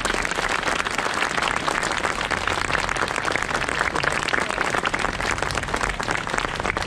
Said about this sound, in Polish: Jeszcze raz nagrodźmy owacjami naszych tancerzy.